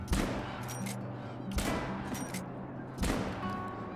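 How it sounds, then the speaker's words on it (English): Three loud, sharp gunshots ring out from the hunting video game theHunter: Call of the Wild, spaced about a second and a half apart, each followed by a short echoing tail over a steady low background hum. "Would help if my gun would shoot."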